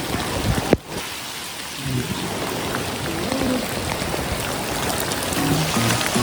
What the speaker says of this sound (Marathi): आता पाऊस वाढला बेकार